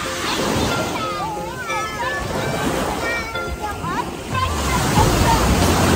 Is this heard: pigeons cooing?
no